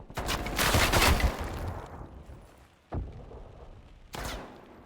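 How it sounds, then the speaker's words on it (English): Gunfire in a competitive Call of Duty match: a dense burst of shots up front, then two sharp single reports later, fairly loud against a quieter game background. "Shots coming now, but Lynx will get first blood on Pincho"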